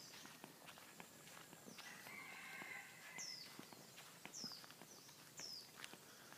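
Footsteps crunch steadily outdoors on a foggy morning at a resort, a regular walking rhythm of soft scuffs, while rooster-like birds call faintly in the background; quiet and close.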